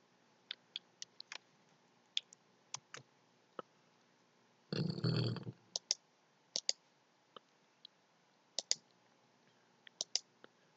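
Single keys on a Windows computer keyboard are pressed in sparse, sharp, close clicks in a quiet room. One brief louder rumbling noise comes midway.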